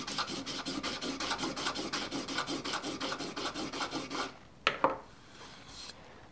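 The back of a blade rubs on a 1000 grit sharpening stone in a steady rhythmic rasping, stroke after stroke, close and fairly quiet for about four seconds, then stops, leaving a few light knocks and scrapes.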